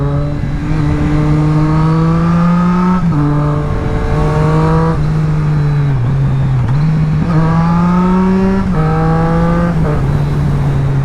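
A Triumph Street Triple S motorcycle engine revs loudly and close, its three-cylinder note climbing and dropping in repeated throttle blips over roughly eleven seconds.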